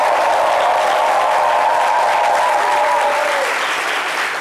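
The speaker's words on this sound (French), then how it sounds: "je vais demander au public d'applaudir, comme je le disais, ce valeureux serviteur de l'État" Studio audience on a midday TV set applauds a guest, a dense, steady wash of clapping lasting several seconds, fairly loud and continuous with no voices over it.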